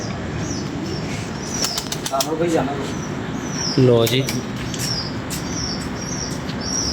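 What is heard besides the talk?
pigeon flapping its wings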